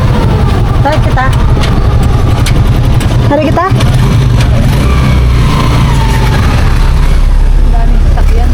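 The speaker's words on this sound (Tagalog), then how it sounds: "Daming sasakyan." Busy roadside traffic with many vehicles, including tricycles, rumbling and revving close by in a steady loud wash of engines, with a person talking over it.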